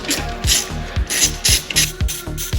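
A ratchet wrench clicks in quick repeated strokes while loosening the screws on an Audi RS6 4.0 TFSI oil strainer plate, close and loud, with short pauses between each burst of ratcheting.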